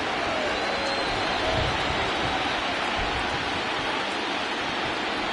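Steady rain hisses continuously over a ballpark in the MLB The Show 20 baseball game, a dense even wash of noise with no voices.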